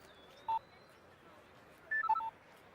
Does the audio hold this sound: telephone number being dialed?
yes